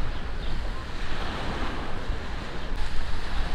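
Sea surf rolling onto the beach beside a seafront fish restaurant at a Turkish resort hotel, a close, steady wash of waves mixed with gusty wind buffeting the microphone.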